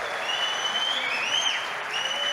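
Sustained applause from an audience at a Big Data event in Brazil, a steady dense patter of clapping that holds for the whole stretch with no voices over it.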